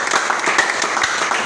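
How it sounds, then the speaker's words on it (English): A youth leadership gathering's audience applauds in a steady, dense patter of many hands clapping at moderate distance, with no talk over it. "Can you clap for him?"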